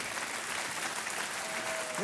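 A studio audience on the Indian TV quiz show Kaun Banega Crorepati applauds in a continuous, even roar, and a voice begins just as it ends.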